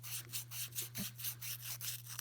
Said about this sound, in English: I'm just sanding the inside, making it completely smooth.